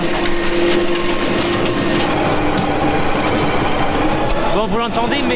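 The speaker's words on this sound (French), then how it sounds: "vous l'entendez, mais le tracteur il en peut plus, ça demande trop de chevaux" A tractor engine labours under heavy load while pulling a seed drill during wheat sowing, a loud continuous drone with grinding mechanical clatter, and a voice speaks over it.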